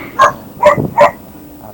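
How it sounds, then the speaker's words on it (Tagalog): A dog at a workshop gives three sharp, close barks in quick succession, then falls quiet. "Sino po may aso? Maingay."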